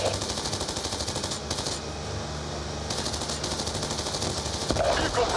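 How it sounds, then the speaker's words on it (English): Rapid machine-gun fire in the Black Ops 2 video game, steady bursts near and loud, pausing briefly mid-way before resuming, with radio chatter about vehicles under fire. "Vehicle Alpha is receiving enemy fire."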